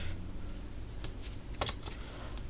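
Playing cards shuffled and dropped during a tabletop card game, a few quick crisp riffling bursts, fairly close and quiet, with no talking.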